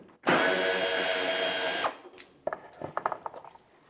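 A power drill runs a loud, steady burst of about one and a half seconds, backing out a fender liner mounting screw on a 1996-2002 Toyota 4Runner, followed by a few light clicks and rattles of handling.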